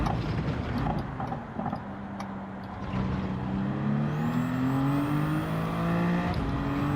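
Race car engine in the video game Gran Turismo 7, revving and climbing in pitch as it accelerates, with a brief lift-off before rising again, heard alone and loud.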